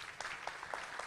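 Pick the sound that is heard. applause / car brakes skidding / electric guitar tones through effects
applause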